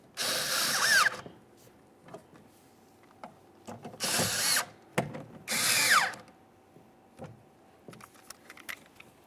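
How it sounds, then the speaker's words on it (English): A power tool tightens the 10mm mounting bolts on a rear power window motor and regulator in a 2006–2012 Ford Fusion door, giving three loud whirring bursts between quieter clicks and clinks of metal. "we'll continue on to tightening each of the 10mm headed mounting bolts"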